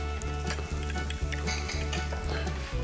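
Eggs frying on a Blackstone griddle, a steady close sizzle with faint scraping and utensil clicks throughout, no talking.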